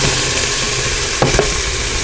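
Meat browning for chili inside a pressure cooker gives off a steady, close sizzle and frying hiss that runs the whole time, with a pair of short stirring clatters near the middle.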